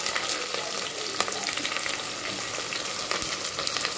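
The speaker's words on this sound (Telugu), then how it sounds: "ఇది కొంచెం లైట్ బ్రౌన్ కలర్ వచ్చేంత వరకు ఫ్రై చేసుకుందాము." Three medium onions, sliced, frying in a pan for vegetable biryani with double beans, a dense, steady crackling sizzle with a few brief stirring taps, close and continuous throughout.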